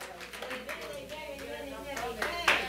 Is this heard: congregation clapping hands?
yes